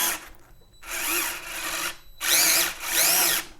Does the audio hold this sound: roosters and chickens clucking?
no